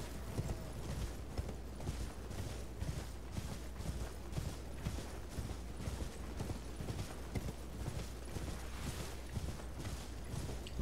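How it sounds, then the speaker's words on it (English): A horse gallops across open ground in the Elden Ring video game, its hoofbeats a steady, close, rhythmic clip-clop running throughout at moderate loudness with no talk over it. "get your horse up and running, turn to the west, and we're going to gallop over to the cliff's edge"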